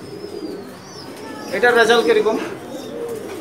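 Kasha-gola breed racing pigeons in a breeding loft coo softly in a steady low murmur, swelling in the middle, while a voice talks over them.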